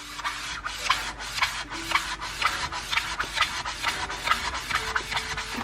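A sponge loaded with Flash cleaner scrubs back and forth across a surface in a steady rasping rhythm, about two strokes a second, close and fairly loud with no talk.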